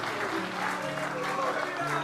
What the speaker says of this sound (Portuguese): Receba essa salva de palmas, Pai.